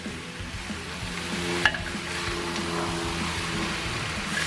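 Two kinds of mushrooms frying in a pan, a steady close sizzle under a low background hum with one brief clack partway through, no talking.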